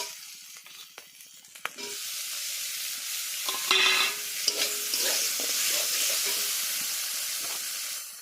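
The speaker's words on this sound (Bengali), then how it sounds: "তো কাঁচা লঙ্কাগুলো একটু ভাজা ভাজা মতো হয়ে গেলেই টমেটোটা তুলে দেবো।" Green chillies fry with cauliflower and potato in a pan, first a few scattered clicks, then a loud, steady hissing sizzle with occasional stirring knocks.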